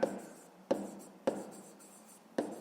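Pen or pencil strokes on paper during a fifth-grade math exercise come as four short, close scratching bursts at irregular intervals, fairly faint, with no talk.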